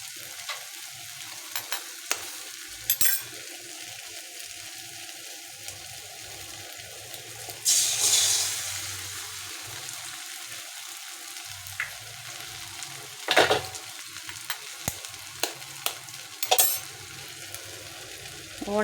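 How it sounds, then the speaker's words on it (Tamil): Beaten egg poured into a hot pan for egg rice, a close steady frying sizzle with a louder gush and hiss when it hits the oil, plus scattered spatula clinks. "இப்போ முட்டையை நம்ம பொத்து ஊற்றிக்கலாம்"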